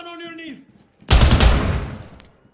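A loud, close burst of rapid gunfire rings out in a police shooter video game, following a brief spoken phrase and tailing off over about a second.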